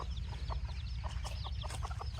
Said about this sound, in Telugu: చూడండి ఒకసారి ఇదిగోండి కోడి